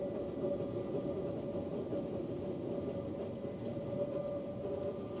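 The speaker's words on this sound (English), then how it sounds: "Nice little hill start for that train." A London Underground train pulls away uphill on a hill start, a steady low rumble of motors and wheels on rails heard from nearby, with no talk.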